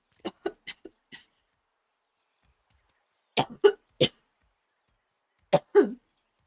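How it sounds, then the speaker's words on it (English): A person gives a few quick hiccup-like bursts, then after a pause breaks into several sharp, close coughs, loud against an otherwise silent background. "hiccup followed by coughing attack."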